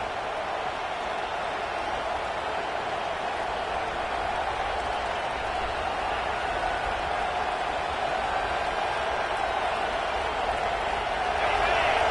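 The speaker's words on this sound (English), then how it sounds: "The roar of the crowd trying to fuel this defense to keep them pinned in their own end." A stadium crowd roars in an American football video game, a steady, dense wash of cheering that holds level throughout and swells louder in the final second.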